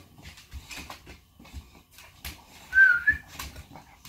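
Dogs whimper with a thin, high, wavering whine among soft scuffling and shuffling noises, fairly close, with no voices.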